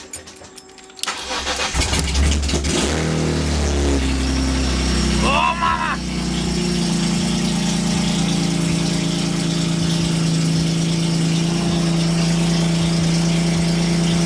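A BMW M3 GTR engine cranks and catches about a second in, then holds a loud, steady, rumbling idle close by, with a brief excited exclamation from a person over it.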